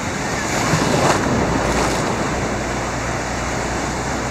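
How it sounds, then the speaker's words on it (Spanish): Small, gentle ocean waves washing in at Playa Delfines beach in Cancún, a continuous close surf wash with wind buffeting the microphone and a slight swell in the first two seconds. "montando olas, tratando de agarrar algo por ahí porque no hay mucha ola, es mínima."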